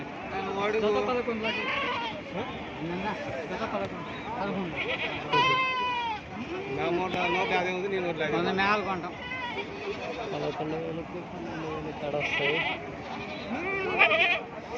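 Goats, including milk goats and kids, bleat repeatedly at a weekly livestock market in Gudur, their calls scattered through steady talk and bargaining voices.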